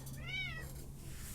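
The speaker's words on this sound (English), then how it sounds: "And there goes my cat." A house cat gives a single short, fairly faint meow, alone against quiet room hum.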